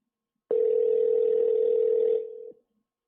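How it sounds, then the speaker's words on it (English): Telephone tone heard while a radio show phones a caller: one clear steady beep lasting about two seconds, loud and alone, fading briefly at the end. "We're ringing him up right now."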